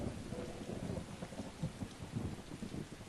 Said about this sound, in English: this thunder's pretty intense